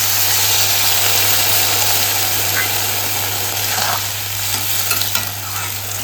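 Water poured into a hot pan of vegetarian food sets off a loud, constant hiss and bubbling sizzle that stays close and even throughout, with a faint low hum underneath.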